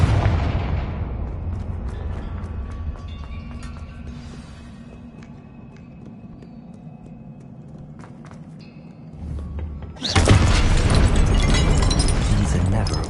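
A Confringo fire spell in Hogwarts Legacy detonates as a sudden loud booming blast near the end, after a stretch of low rumbling game ambience with scattered effects.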